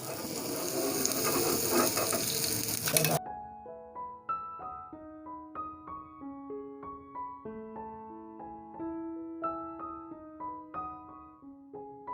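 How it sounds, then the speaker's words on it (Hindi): Makki ki roti on a hot tawa with ghee sizzles steadily and loudly up close for about three seconds, then cuts off as light melodic music takes over. "अब तवे पे डालने की कोशिश करते हैं, और उम्मीद है कि ये टूटे नहीं।"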